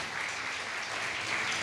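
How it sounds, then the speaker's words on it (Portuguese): A church congregation applauding, a dense and even patter of many hands clapping, fairly distant and steady for the whole stretch with no voices on top. "Vamos aplaudir a Ele bem forte."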